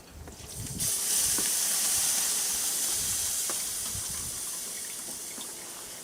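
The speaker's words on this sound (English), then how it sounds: "Then just dump the rest of the juices through the strainer." Prime rib meat drippings and juices from a barbecue drip pan are poured through a strainer into a pot, a steady splashing hiss that swells quickly, then tapers slowly with faint clinks.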